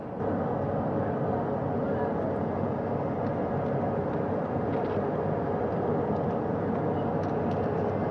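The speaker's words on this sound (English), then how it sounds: "The first helicopter coming in, the second helicopter" A continuous low whirring drone of a navy helicopter in flight during astronaut recovery, steady and fairly loud throughout.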